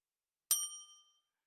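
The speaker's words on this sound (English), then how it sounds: "I will press this bell button on my fancy new mixing desk" A single bright bell ding from a button on a mixing desk, a clean sharp strike that rings out and fades within about half a second in silence.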